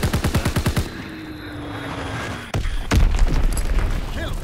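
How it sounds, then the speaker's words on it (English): Call of Duty WWII battle on the Ardennes Forest map: a rapid burst of close gunfire, then a thin whistling drone and two heavy, near explosions as a Fritz X bomb lands, with rumbling aftermath. "Dropping Fritz X bomb."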